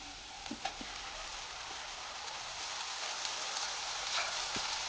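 Masala paste dropped into a pan of translucent fried onions, giving a steady, soft hissing sizzle with a few faint clicks of stirring throughout, fairly quiet and without talk.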